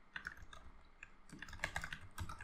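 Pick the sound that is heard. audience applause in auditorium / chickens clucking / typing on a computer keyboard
typing on a computer keyboard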